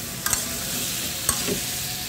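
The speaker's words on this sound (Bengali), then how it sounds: "সামান্য একটু জিরা জিঞ্জার গুঁড়ো দিয়ে দিচ্ছি কষানোর জন্য" Cumin and ginger powder sizzle in a pan with hilsa fish and cucumber, a close steady frying hiss with two sharp utensil knocks against the pan, with no voice.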